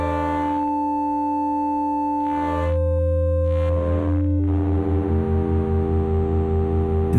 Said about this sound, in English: You can get this really beautiful, sputtery distortion sound as you move the survey knob away from center